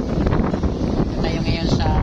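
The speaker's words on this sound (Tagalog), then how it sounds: "Lakas ang hangin sa Malanga." Strong wind buffets the microphone high on Treasure Mountain in Leyte, 550 meters above sea level, producing a loud, continuous rumbling roar throughout.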